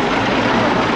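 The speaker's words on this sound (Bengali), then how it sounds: "এটা কিন্তু ডিজেল ইঞ্জিন" Diesel engine of the Darjeeling toy train between NJP and Darjeeling rumbles loudly and steadily up close, a dense continuous drone with no talk over it.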